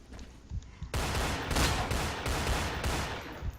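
Dense crossfire in the online shooter F.E.A.R. Online, rapid automatic gunshots bursting in close, loud and continuous after a quieter opening, with no talk.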